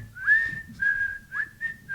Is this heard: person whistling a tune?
yes